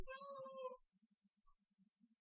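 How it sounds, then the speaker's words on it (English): A house cat lets out one clear, drawn-out meow, close and fairly quiet, followed by soft faint taps in a near-silent room. "Can you hear my cat?"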